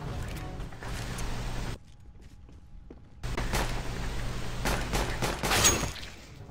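Gunshots in Counter-Strike: Global Offensive, moderate bursts of rapid fire broken by a brief quiet pause, then more shots and movement sounds, fairly faint overall.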